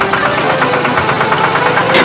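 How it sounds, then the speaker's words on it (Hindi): A tractor engine chugs steadily while ploughing farm fields, a loud close knocking throb with regular pulses and no voices over it. "चंदू अपने खेतों में ट्रैक्टर से जुताई करता है।"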